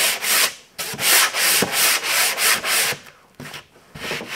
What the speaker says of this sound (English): you just give it a very light sanding.